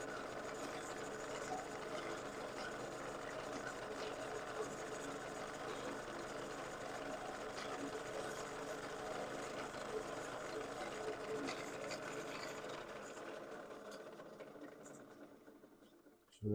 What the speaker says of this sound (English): Shear scraping right here with the spindle drive.